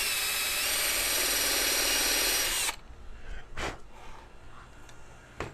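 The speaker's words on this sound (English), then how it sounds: "with my hand drill and a 7/8 bit, I'm simply going to mark my hole location on the next board" A hand drill with a 7/8 bit runs loud and steady for under three seconds while marking a hole in a wooden board for a folding table, then stops, leaving faint handling clicks and a few sharp knocks.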